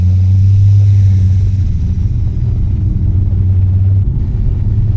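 A 620 HP turbocharged Ford Falcon on E85 pulls hard in second gear, its loud, steady low engine drone and rumble recorded close up, shifting tone briefly near the end.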